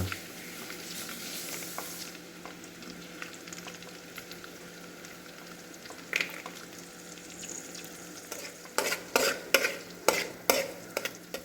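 Ginger, garlic and green chilli frying in a pan, a soft, steady sizzle that builds into a series of sharper scraping and stirring knocks toward the end.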